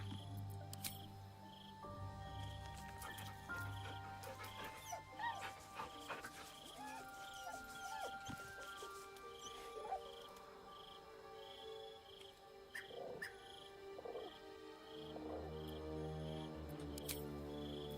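A dog in the Baldur's Gate 3 video game whimpers and yips softly while being petted, over a layered game soundtrack with crickets and ambient tones, fairly quiet and intermittent.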